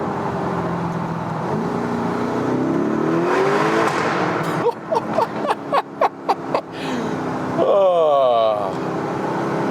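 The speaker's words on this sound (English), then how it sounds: "always the low gears are being kept, late shifting up, more pronounced exhaust sound" Lamborghini Urus Pearl Capsule Edition exhaust on the autobahn as the driver downshifts, with a steady engine drone broken by a run of sharp, loud pops and crackles, then rising gear whine, while people talk inside the car.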